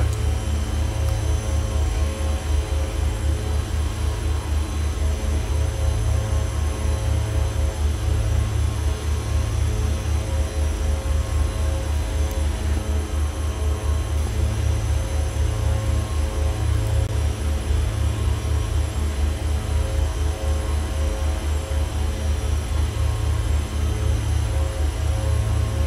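Twin piston engines of a Beech Duke BE60 aircraft in the flight simulator FSX, a steady, loud droning hum with a low throbbing beat that holds unchanged throughout, with no voices.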